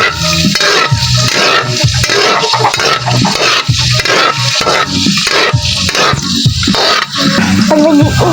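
Garlic fries in hot oil while a utensil repeatedly stirs and scrapes the pan. The clinks and scrapes come in a steady rhythm over a constant sizzle, close and fairly loud, with no talking.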